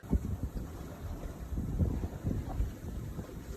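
A sailboat moves along in a ten-knot breeze at nearly six knots, giving a steady rushing of wind and water with low thumps and buffeting against the microphone, continuous and fairly quiet, with no voices.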